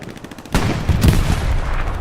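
Sustained gunfire fills a 49-versus-49 multiplayer World War II shooter match at Carentan, with a sharp burst erupting after a brief quieter lead-in, then dense overlapping shots and booms continuing loudly to the end.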